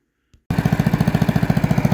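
A 1978 Yardman Snowbird snowblower engine starting abruptly after a brief click, then running with a fast, steady, loud chugging pulse, close and alone.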